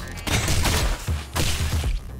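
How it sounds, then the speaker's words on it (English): Gunfire in the video game ROUNDS, two rapid bursts of dense, loud shots, each lasting about a second, separated by a brief gap. "I'm shooting!"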